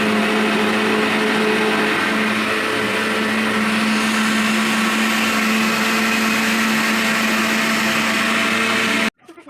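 An Anex grinder blender whirring lassi at high speed, a loud, steady motor drone with a constant hum that runs unbroken for about nine seconds before cutting off abruptly.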